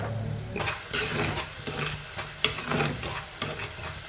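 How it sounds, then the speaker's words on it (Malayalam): Garlic, ginger and green chili paste with salt being stirred and sautéed in a pan, steady sizzling with repeated scraping strokes of a spoon, close and fairly loud. "എല്ലാം കൂടി ഉപ്പും കൂടി ഇട്ട് വരട്ടാട്ടോ"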